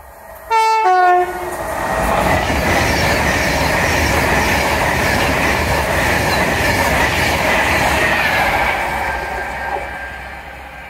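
A Pendolino Class 390 electric train heading to Glasgow Central sounds a brief two-tone horn, then roars past loudly and steadily with rumbling wheels and rushing air, fading slightly near the end.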